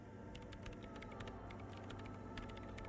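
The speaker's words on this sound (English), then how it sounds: "her hands typing hundreds of commands into the machine" Rapid keyboard typing from the video game Disco Elysium, a character entering many commands into a machine, a steady stream of close, crisp key clicks over a low hum throughout.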